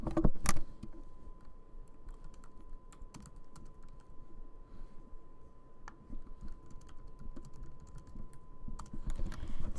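Steady typing on a computer keyboard, a continuous run of close, light key clicks with a few sharper taps, heard alone at moderate level.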